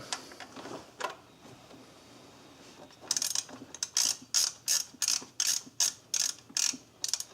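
A ratchet snugs up bolts on a Suzuki Forenza rear timing belt cover: after a few quiet, scattered clicks, a steady run of crisp ratchet bursts follows in an even rhythm, close and alone.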